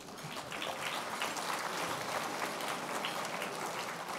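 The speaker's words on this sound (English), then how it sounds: "Please applause." Applause from an audience after guests from an International Advisory Council are introduced, a steady, moderate patter of clapping that holds evenly throughout without voices.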